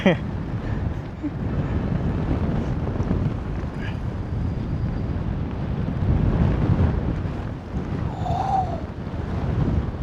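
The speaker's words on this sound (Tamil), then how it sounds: "காத்தானா பயங்கரமாக அடிக்குதுங்க" Strong wind roars steadily over a paraglider flying high above the Himalayas near Pokhara, Nepal, a dense buffeting rush at close range that fills the whole stretch without pause.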